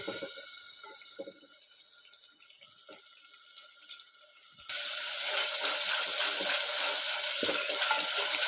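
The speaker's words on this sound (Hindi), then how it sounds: "मसाले की अच्छी भुनाई हो रही है। ऐसे ही हम चम्मच हिलाते जाएंगे और मसाले को भूनेंगे।" Dry spice masala roasts in a pan with a splash of water while a spoon keeps stirring. Faint scraping gives way halfway through to a loud, continuous sizzle that stays up close to the end.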